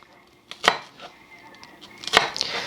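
A knife cuts through an onion on a board, giving two sharp, close chops and a few softer slicing taps in a quiet kitchen.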